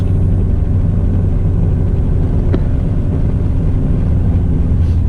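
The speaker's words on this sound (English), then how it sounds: "Take her for a drive on the new exhaust. See, once it revs up, it's pretty nice." A Subaru STI fitted with a new exhaust during its break-in drive, a loud steady low engine rumble and drone filling the whole stretch, close by and alone, without a clear rev rise.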